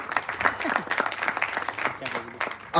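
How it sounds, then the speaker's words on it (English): Audience applause at a film trailer launch event for Jersey, a broad crowd-wide clapping wash that carries on steadily at a fairly loud level, with voices and cheers mixed through it. "Ladies and gentlemen, big round of applause for Mrunal and Shahid Kapoor."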